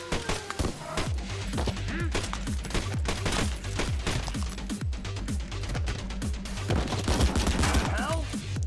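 Rapid gunfire from the NF1L gun in the video game Madness Project Nexus, a dense run of shots cracking continuously through the whole stretch, loud and close, with other bursts and impacts mixed in.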